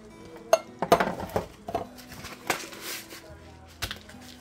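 Tomato paste and a can of diced tomatoes go into a cooking pot, giving a few sharp metallic clinks and clatters of can and utensil against the pot, with soft plops between, close by.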